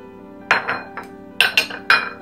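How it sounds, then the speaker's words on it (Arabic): Several sharp clinks against a bowl as eggs are whisked with potatoes, coming in short uneven bursts at close range. "اول شيء غادي نخوض هاد البيض مع البطاطا"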